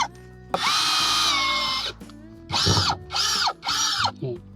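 An OCD701-D1 cordless 5-in-1 drill drives a screw: one long whirring run, then three shorter bursts of motor whine in quick succession, close and clear, with no talk.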